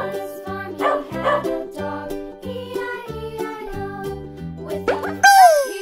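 A dog barks in several short, separate bursts over a light musical backing, ending with a bright springy twang.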